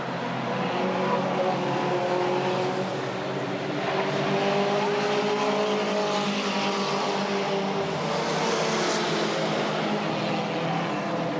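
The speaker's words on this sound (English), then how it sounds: "Top 2 cars down the back straightaway as we are at the halfway point" Mini stock race cars from a 1989 season at Redwood Acres Raceway roar steadily around the track, engines droning loud and continuous with rising pitch as a car passes near the end, no talk.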